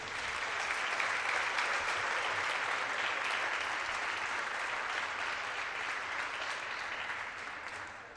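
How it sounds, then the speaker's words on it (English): Gym crowd at a girls high school volleyball game applauds senior players, a broad wash of steady clapping from the stands that rises quickly, holds for several seconds and slowly fades. "how about one last round of applause for our senior Grape pickers"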